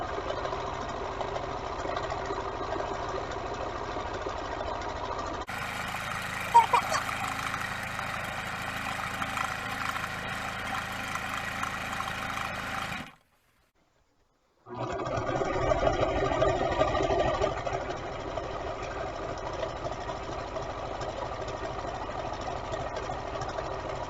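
Sewing machine running a zigzag stitch with very short stitch length on a fabric feeding tube pad, a long steady motor drone with a short stop and restart, close and without talk.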